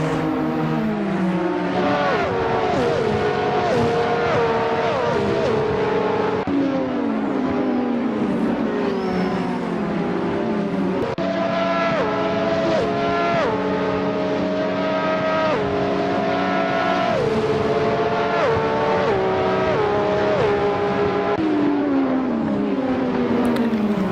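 Several race cars in a sim racing video game run down the main straight. Their engines whine and rev continuously, and the pitch climbs and drops sharply through repeated gear shifts. The sound is loud, dense and layered, with no talk.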